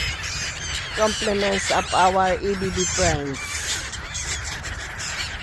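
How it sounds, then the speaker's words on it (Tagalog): A large flock of birds being fed squawks and squeals in loud, overlapping calls close by, with someone talking over the noise. "Kapag pakain po kami ng maraming ibon"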